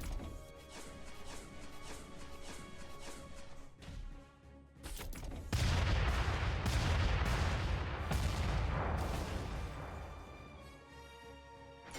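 Gunfire and explosive crashes from the Front Mission 2 video game, aimed at helicopters, with a steady music-like bed giving way to a loud burst of rapid shooting and booms that trails off near the end.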